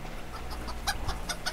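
One rooster and three hens cluck in a GTA video game scene with spring vegetation, short clucks repeating at irregular intervals over a low steady background hum.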